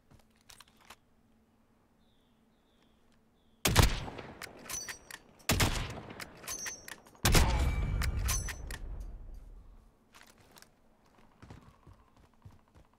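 Gunfire in the video game Warzone comes as several loud, sharp bursts of rapid shots with trailing echoes. Faint background sounds sit in the quieter stretches around them.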